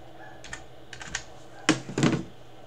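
Keys clatter on a computer keyboard as a verification code is entered: a few sparse, light taps, then a quicker cluster of louder keystrokes close by.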